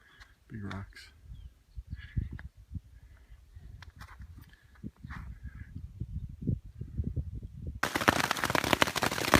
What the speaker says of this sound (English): More hail.